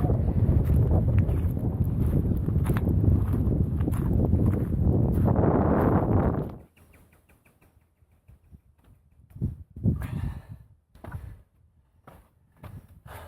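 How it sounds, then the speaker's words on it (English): Loud, steady wind buffeting the microphone for several seconds, then cutting out abruptly, leaving quieter scattered rustles and a few soft bumps. "And it's windy again."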